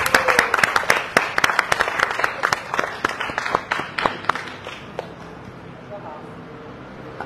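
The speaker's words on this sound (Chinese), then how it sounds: "现在我们就掌声欢迎王宗平" At a film press conference, an audience claps sharply and briskly to welcome an actor, then the applause gradually thins and fades away. A host's voice is heard alongside it.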